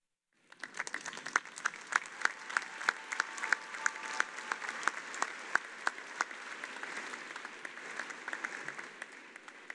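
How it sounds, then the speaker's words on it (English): Graduation audience at a fall undergraduate commencement ceremony applauding the seated faculty, a steady wash of clapping that starts abruptly and holds at full strength for about nine seconds, with sharp individual claps standing out near the microphone. "join me in applauding their contributions to your education"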